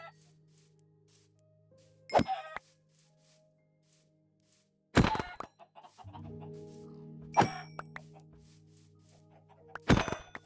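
Chickens cluck in a Minecraft game, sounding as a few separate sharp clucks spaced several seconds apart over quiet game background, with no talking.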